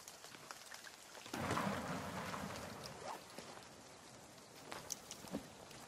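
Rain and rolling thunder in the survival game The Forest, a steady downpour swelling into a loud, sustained rumble partway through, then easing back to rain with scattered drops and thuds.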